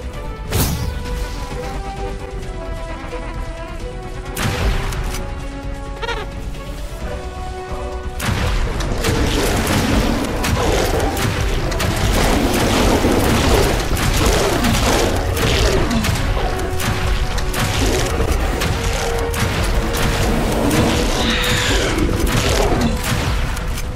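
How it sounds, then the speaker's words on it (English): Buildings come under attack and blow up in The Riftbreaker, with heavy booms and crashing blasts rolling into a dense, continuous roar of explosions and weapon fire that holds loud to the end. "One of our buildings has been destroyed."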